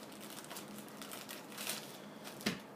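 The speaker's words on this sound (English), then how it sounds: "you're just going to open up the Ziploc bag" A plastic Ziploc bag being handled and opened up close by, soft crinkling rustles through the clip ending in a brief sharper crackle, quiet and without talk.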